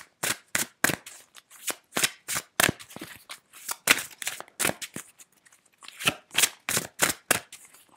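Tarot cards are shuffled by hand in a quiet room, a run of crisp riffling bursts in an uneven rhythm, close and fairly soft with short pauses between them.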